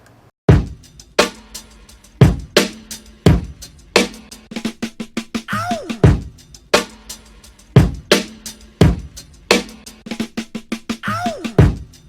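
A boom bap beat built from chopped, dirty drum breaks in FL Studio plays loud and alone, with punchy kicks and snares landing in a steady looping groove with short fills.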